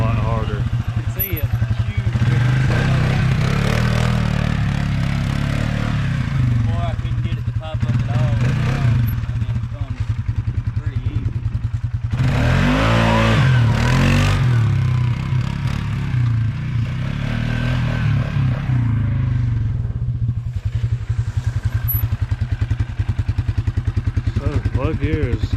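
A 2020 Polaris Sportsman 450 ATV with a clutch kit pulling hard from a standstill, its engine droning loud and close with rising revs and rattling, while people talk over it.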